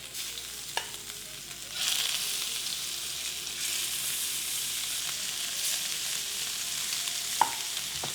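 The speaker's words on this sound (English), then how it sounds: "let's put in our steak. Want that nice sizzle there" Steak bites hit hot oil with a loud, steady sizzle and crackle that swells and holds, with a few clinks of a utensil in the pan.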